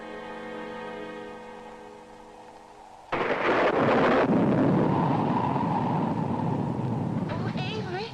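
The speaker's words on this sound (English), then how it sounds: "Oh, Avery, there's a storm coming up." Thunder from an approaching storm breaks in a 1945 film, a sudden heavy rumble that swells and rolls on loudly for several seconds after a stretch of sustained tonal sound.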